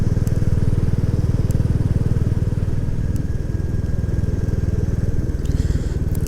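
A Royal Enfield Classic 350 motorcycle's exhaust thumps in a steady, fast single-cylinder beat while riding at low road speed, loud and close, with wind noise underneath and no break throughout.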